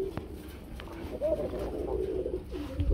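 Red-coloured pigeons, kept in pairs for sale, coo softly in low, throaty warbles over a quiet background murmur. A few faint clicks are also heard.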